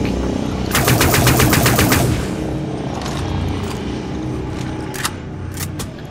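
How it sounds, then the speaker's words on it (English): Rapid machine gun fire in the sci-fi shooter Dust 514, a dense burst of closely spaced shots lasting over a second, followed by scattered single shots amid ongoing battle noise. "Machine gun."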